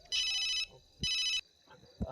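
A phone rings with two clear bursts of a bright electronic ringtone, each lasting about half a second and separated by a short pause, followed by a faint low thump near the end.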